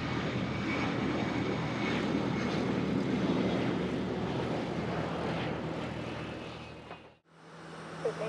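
Private jet taking off at John Wayne Airport, a loud steady engine roar that fills the air and slowly fades, then drops out abruptly before other faint sounds at the end.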